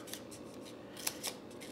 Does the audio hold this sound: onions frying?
no